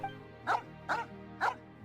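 Three evenly spaced barks from a dog in Genshin Impact ring out clearly at a moderate distance, each short and sharp, against a quiet game backdrop.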